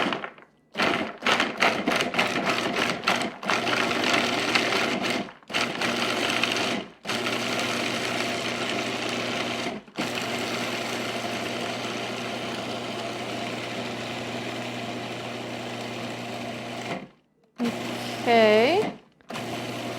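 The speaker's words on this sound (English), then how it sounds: "we're gonna use this food processor and gonna pulse it" A food processor pulses cashews with coconut oil and a little salt, its loud motor whirring in bursts of a few seconds. Brief silent breaks fall between pulses, and the blade grinds and rattles up close.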